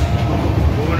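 The Duranto Express 12245 rolls along on its way from Howrah to Bangalore. Heard from inside a 3rd AC coach, it gives a loud, steady rumble with low clatter and a voice talking over it.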